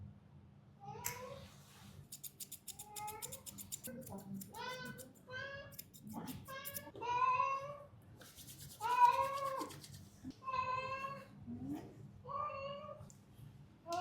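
Cat meowing repeatedly during a bath, being washed to remove stubborn dirt and oil from its fur, with a string of loud, drawn-out, protesting meows close by and quiet talk underneath.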